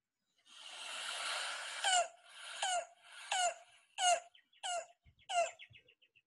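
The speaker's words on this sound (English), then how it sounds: "So hopefully if you haven't seen this bird, yellow-billed cuckoo, y'all learn this call" A yellow-billed cuckoo calls, starting with a rapid rattling run, then slowing into a series of about six separate hollow clucking notes spaced apart, fairly faint and alone.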